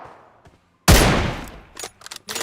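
A single loud, close gunshot from an M24 sniper rifle in the PUBG Mobile game, with a sharp onset and a long fading tail, followed by a few fainter distant shots.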